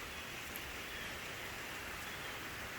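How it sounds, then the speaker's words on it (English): Steady rain falling outside, a constant even hiss of drops heard from indoors at a moderate level, with no voices over it. "But look, it is raining."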